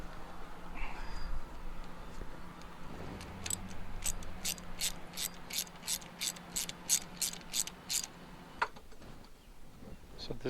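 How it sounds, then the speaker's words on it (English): A ratchet socket wrench with a 17 by 32 socket loosens a marine engine thermostat housing, clicking rapidly in an even run of about a dozen close, sharp clicks, with a faint voice at the start. "To open up this thermostat, you need 17 by 32 socket."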